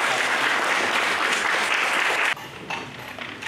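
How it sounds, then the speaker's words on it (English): Audience applause at a county signing ceremony for a memorandum with the national statistics bureau, dense steady clapping that stops abruptly partway, followed by a few scattered claps. "A round of applause."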